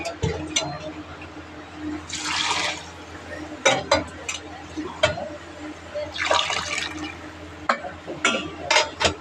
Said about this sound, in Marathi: ह्याच्यामध्ये पाणी टाकायचं